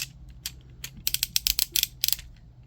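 A Transformers Legacy Armada Optimus Prime figure's ratcheted knee joint clicks as it is moved, producing a few scattered clicks and then quick bursts of sharp plastic ratcheting, close and crisp.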